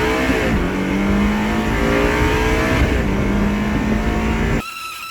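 A loud repaired salvage Ferrari engine, making an abnormal noise, revving hard in rising and falling sweeps on the open road, its pitch climbing through gears before cutting abruptly to a quieter idle near the end.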